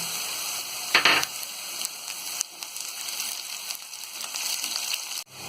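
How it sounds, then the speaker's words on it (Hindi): Green chillies drop into lightly pink frying onions in a pan, setting off a sudden burst of hissing spatter that settles into steady, close sizzling with occasional spoon clicks and no speech. "अब इसमें हम ये हरी मिर्च को डाल देंगे।"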